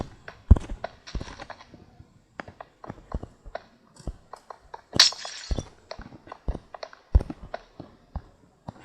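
Glass panes breaking in a house-building battle video game, a rapid irregular series of sharp cracks and clinks spread across the stretch, close and fairly loud, with no talking.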